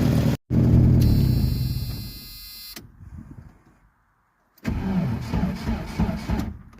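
A 1986 Jeep Comanche with a 2.5L engine cranks on a weak battery, a loud, labored starter grind that runs for a couple of seconds, falls silent, then resumes with rough engine noise, recorded up close.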